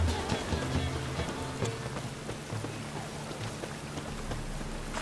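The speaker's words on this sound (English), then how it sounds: "And it's raining again." Steady pattering rain fills the scene in The Witcher 3, a continuous wash of droplets with faint low tones underneath, no voices.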